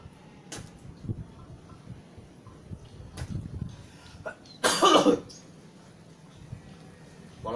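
A person with flu coughs several times, sharp short bursts scattered among quiet room noise, the strongest one near the middle, with no speech.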